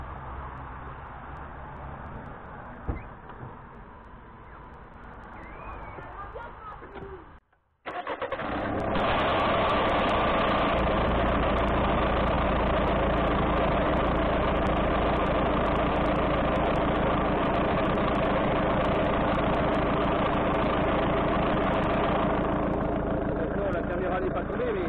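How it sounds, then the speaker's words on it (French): A 2008 Citroën C5 with an AM6 Aisin TF80SC automatic gearbox idles quietly, then after a brief cutoff its engine starts and settles into a loud, steady close idle that runs on continuously, with a voice speaking near the start. "je démarre, je passe les vitesses"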